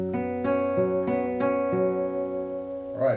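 Fingerstyle acoustic guitar plays a bar from a song, picked notes and chord tones ringing over each other in an even rhythm, close and clean, with a faint rustle at the end.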